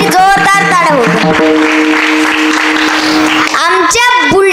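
Audience applause at a kirtan led by a child kirtankar, a dense clapping wash that swells in the middle under a sustained, loud singing or speaking voice.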